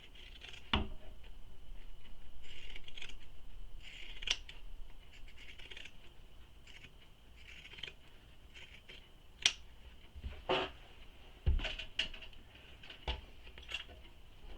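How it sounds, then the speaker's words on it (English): Pinking shears snip through fabric seam allowances in a series of sharp, irregular cuts over a quiet room background, some clicks louder than others. "and you can use pinking shears"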